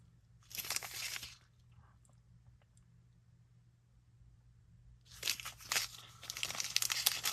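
Crinkly plastic packaging for a black cat coin pendant necklace is handled in two bursts of crackling, near and fairly soft, with a quiet pause between them.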